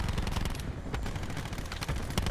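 Rapid, dense gunfire from the Black Ops video game, a continuous rattling burst of shots throughout, moderately loud with no speech over it.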